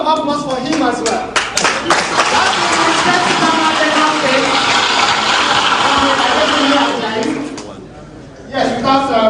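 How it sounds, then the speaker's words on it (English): A crowd claps in steady applause at a party presidential primaries event in Abuja, dense clapping mixed with chatter before fading out near the end as voices return. "A round of applause for him as well."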